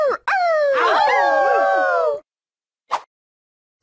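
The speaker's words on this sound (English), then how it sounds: "H. Howl." A dog howls in a Halloween children's cartoon: one long, rising and falling howl of about two seconds, loud and close, followed by brief softer yelps.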